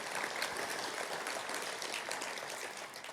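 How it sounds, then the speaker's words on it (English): Audience at a breakfast event applauding after opening remarks, a continuous, fairly faint round of clapping from a room of people that carries on throughout. "We give them a round of applause, please."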